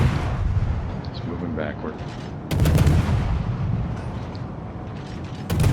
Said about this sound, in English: And I might be able to finish off the Leander just blind firing